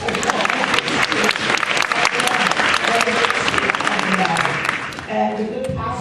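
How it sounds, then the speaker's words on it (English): Crowd applause at an MLK commemoration event during a US Senate candidate's speech, sustained loud clapping from a large audience with cheering voices mixed in, easing slightly near the end. "you can applaud, and you should."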